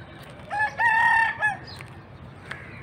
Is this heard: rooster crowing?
yes